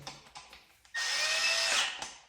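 Cordless power drill driving screws into a ceiling fan assembly: a few light clicks and taps, then a single loud, high whirring burst of about a second that winds down.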